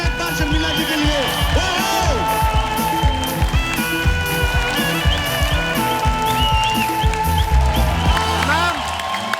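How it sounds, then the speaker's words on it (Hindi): Studio audience clapping and cheering for actress Sharmila Tagore on a comedy show, rhythmic claps blended with loud band music and a melodic line, the applause riding under the music. "जोरदार तालियां हो जाए एक बार शर्मिला जी के लिए"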